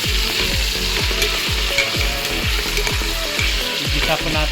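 Food sautés loudly in a pan, a dense continuous sizzle with rhythmic stirring scrapes repeating about twice a second, close and unbroken.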